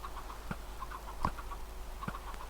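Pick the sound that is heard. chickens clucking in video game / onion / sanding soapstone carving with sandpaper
chickens clucking in video game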